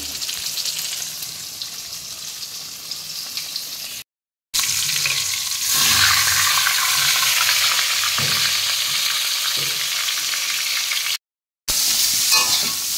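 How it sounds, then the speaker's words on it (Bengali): Fish sizzling and frying in hot oil in a home kitchen, with a steady loud crackle broken by brief pauses and stirring, turning scrapes as the pieces are flipped. "এদিকে আমি মাছ ভাজা বসিয়ে দিয়েছি, এবার উল্টে নেব।"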